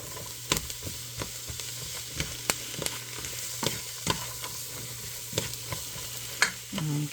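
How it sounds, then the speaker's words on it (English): Small chopped mushrooms sautéing in butter in a pan, a steady sizzle with repeated spoon scrapes and taps against the pan, close, with no talking. "we'll get this sauteed"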